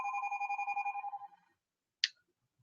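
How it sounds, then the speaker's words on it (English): Telephone ringing indoors, a rapid pulsing electronic bell trill that fades out after about a second and a half, followed by a single short sharp click, with no talking. "I am going to wait it out until that phone stops ringing."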